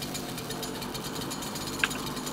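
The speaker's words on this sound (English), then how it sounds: "Like I was still playing the chainsaw music, the chainsaw noise." Chainsaw from the DOOM video game, a rapid, even mechanical rattle pulsing steadily for a couple of seconds, with one sharp metallic click near the end.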